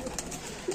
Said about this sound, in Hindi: उमेर भाई के रामपुरी कबूतर